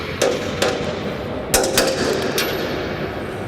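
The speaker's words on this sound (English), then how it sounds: "There's the torquing of the bolts." Bolts on a grain bin paddle sweep being torqued with a power tool, giving several sharp impact bursts and clanks at irregular intervals over steady background noise.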